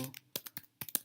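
Keys on a computer keyboard clack in a short burst of several crisp, separate strokes, close and fairly quiet, with no talk over them.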